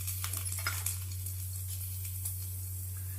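Garlic, green chillies and tamarind sizzle in hot oil in a pan, with soft stirring scrapes and a steady electrical hum underneath, no voices.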